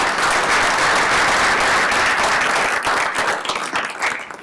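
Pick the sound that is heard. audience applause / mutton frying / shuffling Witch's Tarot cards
audience applause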